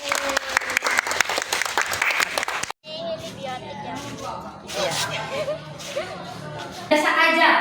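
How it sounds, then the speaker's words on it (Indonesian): A classroom of children bursts into brisk, dense clapping for a few seconds. Lively chatter and a teacher's voice follow as the applause dies away. "Kasih aplaus untuk kita semua."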